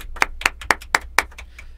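Hand clapping welcoming a studio guest on a talk show: five sharp, evenly spaced claps about a quarter second apart, close and fairly loud, with no voices over them.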